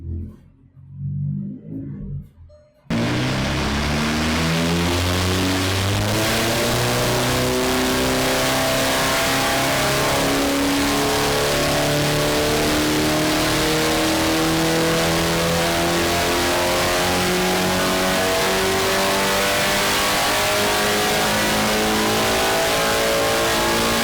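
A Cadillac engine on a dyno, after a quiet opening moment with a fan running, bursts into a loud sustained pull with rising and falling rev sweeps that carry on without a break.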